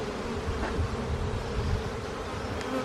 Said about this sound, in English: there's lots of bees.